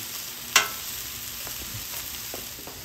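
A stir fry sizzles on a hot Blackstone flat top griddle with a steady frying hiss, broken near the start by one sharp metallic scrape of a spatula and a few faint taps after it.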